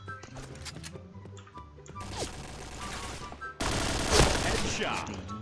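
Gunfire from an online shooter game while jump-shooting, with sharp shots cracking over game noise and a loud dense burst of firing near the end, as a voice talks briefly underneath.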